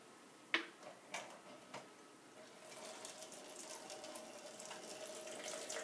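Water is poured into the top of a hanging planter and trickles down through the tiers and sponges, starting with a few quiet splashes and drips, then settling into a faint continuous trickle that builds slightly.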